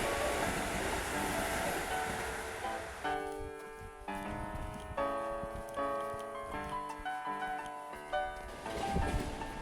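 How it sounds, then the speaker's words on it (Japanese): A Keisei Line train passes a pedestrian level crossing near Keisei Makuhari Station, its steady rolling rumble and wheel noise joined by the crossing's repeating warning bell through the middle, with no one speaking. "ちょうど京成線が来ました。"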